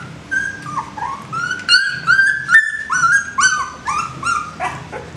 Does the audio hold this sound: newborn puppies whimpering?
yes